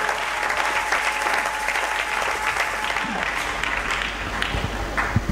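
A church congregation applauding during a service, a steady wash of many hands clapping at moderate distance that continues for several seconds, with a voice briefly audible underneath.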